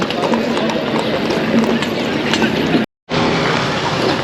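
Horse hooves clip-clop in a busy Marrakech square, a steady rhythmic clatter amid crowd noise with a brief dropout near the end.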